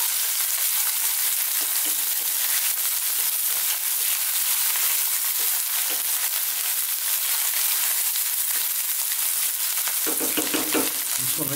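Loud, steady sizzling of garlic ginger paste frying on high heat for a lamb curry, a continuous hiss with occasional stirring noises.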